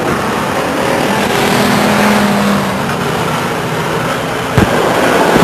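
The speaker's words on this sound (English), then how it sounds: "5 car pulling in the race course" Race car engine roaring at Stockton 99 Speedway, a steady loud drone of cars circling the track with a brief sharp knock near the end; no talk.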